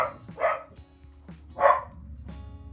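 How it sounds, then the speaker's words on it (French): Dogs bark in a few sharp, spaced-out bursts, with two louder barks standing out against a quiet background and no talking. "Qu'est-ce qu'il y a les chiens? Hein?"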